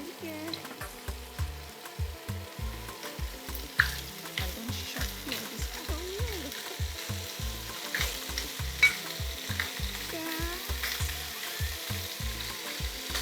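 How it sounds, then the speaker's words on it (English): Jollof rice ingredients sizzle and crackle steadily in a hot pot, with rhythmic stirring scrapes and occasional pops, close and continuous. "So it's going to feel like we are frying it."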